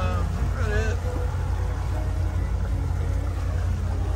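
Steady low engine drone of a Marinette 32 cruiser running on its starboard engine alone at about 1200 RPM, port engine shut off, on Kentucky Lake, with water and wind noise and a brief voice early on.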